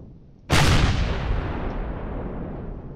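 Cannon fire in the space game Empyrion: one sudden, powerful boom with a long rumbling decay that fades over a couple of seconds, loud and alone without talk.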